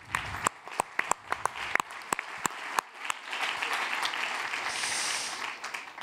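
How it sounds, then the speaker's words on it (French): Applause from a conference audience at a closing plenary session, starting as scattered individual claps and swelling into steady, moderately loud clapping from a sizeable crowd that continues to the end. "on peut les applaudir"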